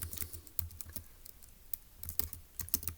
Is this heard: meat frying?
no